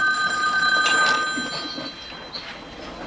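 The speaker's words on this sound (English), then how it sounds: "Aren't you going to answer the phone?" A telephone bell ringing indoors, a bright trilling ring near the start that fades over the next couple of seconds, fairly clear with a quiet background.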